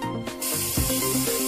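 Northstar spray adhesive released from a spray gun in a test burst, a brief hiss at first and then a steady, loud continuous spray that runs to the end.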